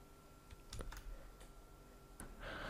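Quiet typing of a web address on a computer keyboard, a handful of scattered soft key clicks with irregular spacing, close and faint, followed by a short rise of noise at the end.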